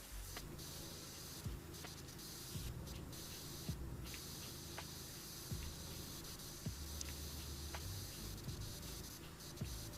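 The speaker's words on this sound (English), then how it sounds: "just all over the place with spraying here on these pillars, but doing it without soap" Steady hiss of a pressure washer spraying pillars without soap in the video game PowerWash Simulator 2, a continuous broadband spray with faint clicks and brief dropouts, moderately quiet and with no talking.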